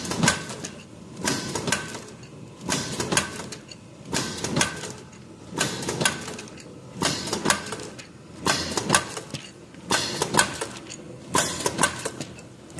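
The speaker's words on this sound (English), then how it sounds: "52LP vertical form, fill, and seal running a liquid product" A PM-52LP vertical form, fill and seal sachet machine runs liquid product into small 2x3 bags, giving a steady cycle of loud mechanical clacks and hissing bursts repeating roughly every second and a half, close up with no talk.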